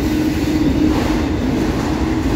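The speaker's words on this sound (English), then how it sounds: "those coal trains like that EO65," An eastbound CSX empty coal train passes close by, a loud, steady rumble of wheels and rail noise that holds without a break, with no voices.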